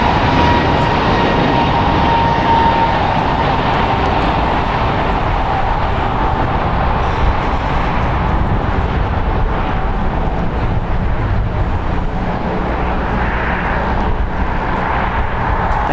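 An Avianca Airbus A320neo at LAX makes a sustained, loud engine roar with a thin whine near the start, continuous and unbroken by voices.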